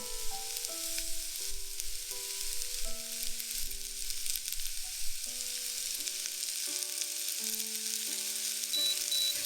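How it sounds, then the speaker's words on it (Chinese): Diced pumpkin with garlic, salt and black pepper fries in a pan, giving a steady, dense sizzle throughout, while soft background music plays underneath. "转中小火翻炒2分钟"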